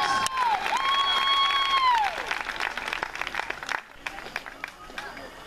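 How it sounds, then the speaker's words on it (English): A crowd at a boys' high school soccer game applauds and cheers a senior player on senior night, with sustained clapping and whistles in a large open space as an announcer's voice carries over it. "Nice round of applause for senior Dylan Adkins."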